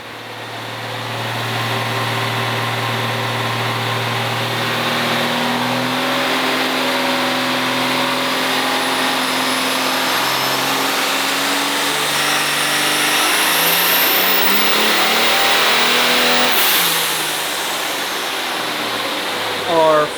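A loud street truck engine on a dyno climbs steadily in pitch through a long, sustained rev under heavy load, then drops off near the end.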